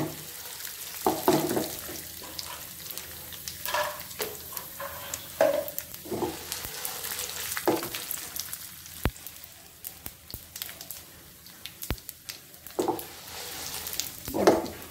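Urad dal and peanuts fry in hot oil for coconut rice, a soft steady sizzle with occasional louder crackles and pops close by; no one speaks.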